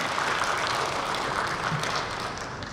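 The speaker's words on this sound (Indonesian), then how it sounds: "Sekali lagi tepuk tangan buat Pak Daniel." Steady clapping from an audience at a professional electrical engineers' association event in Indonesia, a dense, even patter of many hands that tapers slightly toward the end.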